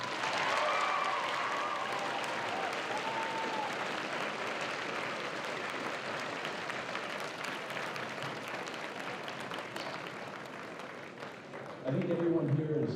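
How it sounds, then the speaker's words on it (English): School assembly audience applauds a teacher in a long, sustained round of clapping that stays even for about twelve seconds, then a voice begins speaking as the clapping fades. "Let's give him one more round of applause."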